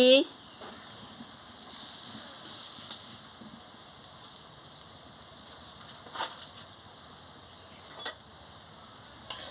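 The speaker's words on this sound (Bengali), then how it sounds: "বন্ধুরা দেখুন টকবক করে ফুটছে" Fish roe tamarind curry bubbling in a pot, a steady soft hiss and simmer with a few brief clinks, nearby and fairly quiet.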